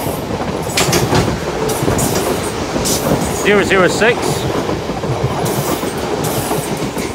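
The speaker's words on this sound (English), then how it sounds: "Another 450 going through." A Class 450 electric train rolls through Clapham Junction on the South Western Main Line, loud and close with rhythmic wheel clatter and a brief squeal, as someone talks over it.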